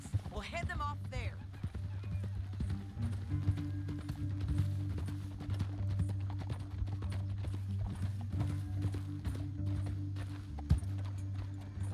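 Horses gallop in the Red Dead Redemption 2 video game, a steady rapid clip-clop of hooves over a low rumbling score, with a brief whinny near the start and voices talking.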